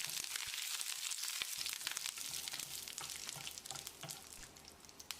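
Curry leaves and three dried red chillies frying in hot oil with popped mustard seeds: a close, steady crackling sizzle with sharp spits and pops throughout.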